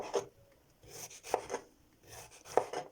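Three separate bursts of a knife slicing bell pepper, each a cluster of quick sharp chops on a board, close by with quiet pauses between.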